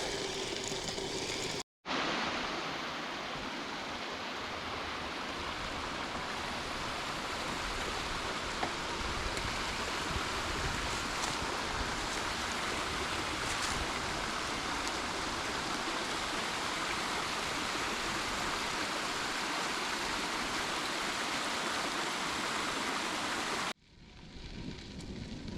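Buffalo Creek flowing in early spring along a community trail near Freeport, a dense, steady rushing wash of water that holds constant and close for over twenty seconds.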